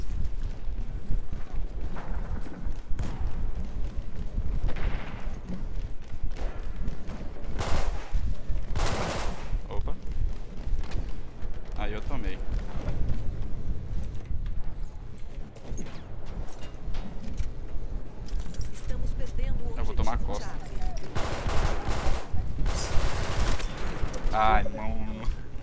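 Battlefield 1 gameplay gunfire crackles in repeated bursts and single shots over a busy battlefield mix of galloping hooves and noise, with people talking throughout.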